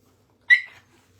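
A pet pup lets out a single short, high-pitched whimper seeking attention, close and clear against an otherwise quiet indoor room.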